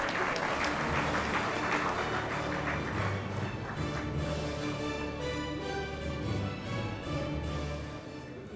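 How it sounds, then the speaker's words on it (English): Sustained audience applause at a 2015 ACMA manufacturing excellence awards ceremony, a dense wash of many hands clapping at steady volume for about eight seconds with a low hum beneath. "may I please request you to be more liberal with your applause"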